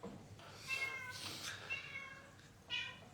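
A house cat meows several times in the background, short rising calls spaced across a few seconds at moderate distance.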